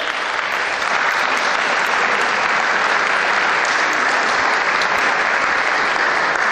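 Dense, steady applause from a large audience at an afternoon Saint Anne's Day gathering, loud and sustained without pause for the whole stretch, with no voices standing out.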